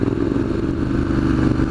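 A 2015 Triumph Scrambler engine runs out on a British country road, a loud, steady mechanical rumble with a rough clattering texture that holds an even level and never lets up.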